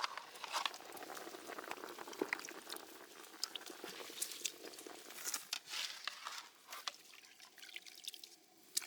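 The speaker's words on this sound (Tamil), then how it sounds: "தண்ணி நல்லா கொதிச்சுட்டு அரிசியை ஆட் பண்ணிக்கலாம்." Water at a rolling boil in an outdoor village cooking pot for chicken mandi rice, steady bubbling and popping with dripping and crackling, close and continuous with no talk.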